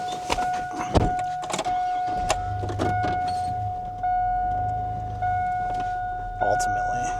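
A truck is eased closer over a fallen-branch cleanup, its low engine rumble running under a steady, piercing electronic warning tone that drones throughout, with a few clunks and brief voices.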